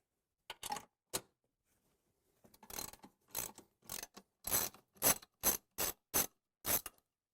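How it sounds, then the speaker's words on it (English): A ratchet wrench clicks in quick, crisp bursts while nuts holding a hose reel arm are removed, a short pair of clicks followed after a pause by a longer steady series. "Our next step is to remove the 8 nuts, so there's 4 on each side holding the arm in its current position."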